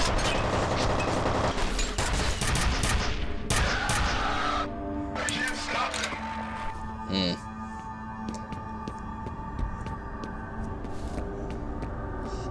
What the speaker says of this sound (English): Quite often when you kill an enemy like that, they fire wildly